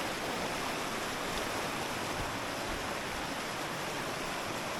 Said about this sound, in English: There's a big waterfall right here.